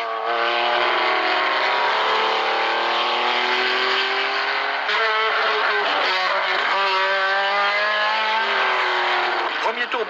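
Race cars thunder past on an early lap of the 1975 24 Hours of Le Mans, a loud continuous roar of multiple engines with shifting pitches as cars sweep by, while a commentator talks over it.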